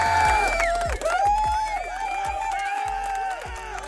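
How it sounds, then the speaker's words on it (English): A large crowd at a tennis event cheers and applauds, a loud swell of voices and clapping with some whoops, fairly close and steady throughout. "It's quite a crowd right there."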